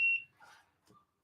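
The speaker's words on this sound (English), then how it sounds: "And that's my alarm." An alarm sounds a single short, bright electronic beep, followed by faint low background noises.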